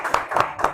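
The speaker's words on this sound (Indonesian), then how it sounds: "Tepuk tangan dong." Three distinct bursts of hand clapping from a small audience at a university teaching presentation, close and fairly loud, spaced evenly in a brief rhythmic sequence.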